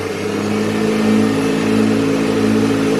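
A replacement electric lathe motor runs flat out at high speed, about 1282 RPM, giving a loud, steady mechanical hum with a constant whine that holds level throughout, with no voices.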